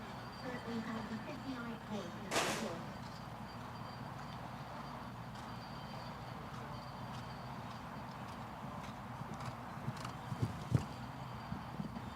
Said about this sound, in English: 9-year-old Swedish bred gelding by Baltimore 1178.